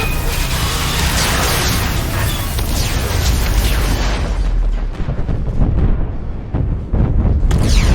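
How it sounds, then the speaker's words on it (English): Loud, sustained explosion in the video game Mass Effect 2, a dense rumbling blast with crackling debris and booming low end running the full length, with brief dips before surging again near the end. "Didn't look back at the explosion."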